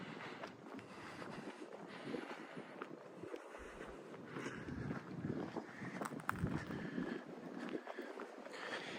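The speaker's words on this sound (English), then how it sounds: "It is windy out though." Gusty wind blows by a lake, buffeting the microphone with low rumbling and an uneven, fluttering roar that swells and eases throughout, with no one speaking.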